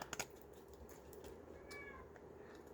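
A pet cat meows softly in a quiet room, with a couple of brief, faint calls and light handling noises, no talk.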